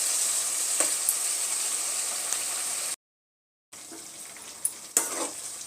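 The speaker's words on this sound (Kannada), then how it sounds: "ಇದು ಚೆನ್ನಾಗಿ ಫ್ರೈ ಮಾಡೋಕ್ಕೆ ಬಿಡಬೇಕು" Brinjal frying in a pan for brinjal rice, a steady close sizzle with occasional stirring scrapes, broken by a short silent gap before the frying hiss resumes with a few sharper clicks.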